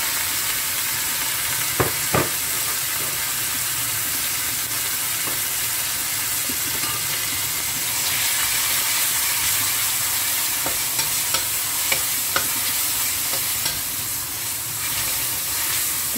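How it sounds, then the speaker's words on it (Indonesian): Food frying in hot oil with garlic in a home kitchen, a steady broadband sizzle running throughout with a few sharp clicks and scrapes of stirring, close and fairly loud, no talking. "digoreng sampai setengah matang aja ya, jangan sampai matang-matang"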